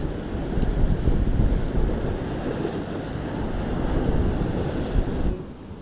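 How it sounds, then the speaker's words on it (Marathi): Steady rushing wash of sea waves, with a low rumble and some wind buffeting the microphone, fairly loud and continuous, no voices. "समुद्र आता बराच शांत झाला"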